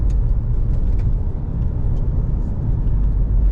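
A 2024 Volkswagen Amarok TDI600 V6 driving over a rough potholed road, a loud continuous low cabin rumble with faint knocks and rattles throughout, with no talk.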